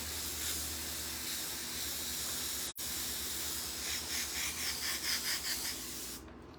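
Airbrush spraying paint onto a hoodie, a steady close hiss that runs unbroken apart from one brief cut, then pulses in short rhythmic bursts near the end before stopping.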